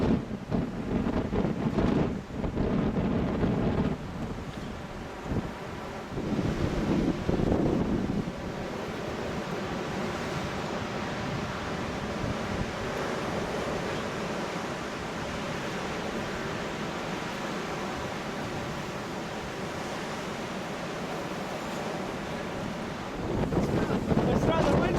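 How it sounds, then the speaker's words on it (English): Strong wind gusting at the top of a tower in Scotland on a freezing day, a steady roaring rush buffeting the microphone throughout, with heavier bursts near the start and end. "It's rather windy."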